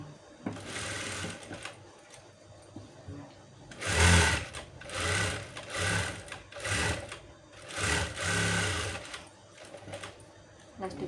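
A sewing machine stitches a blouse in several whirring bursts of varying length, close and fairly loud, with short pauses between runs.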